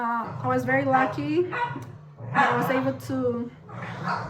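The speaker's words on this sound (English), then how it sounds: "That's my dog." A dog barks at home beneath a person's steady talking, with the barks mixed into the speech rather than standing out on their own.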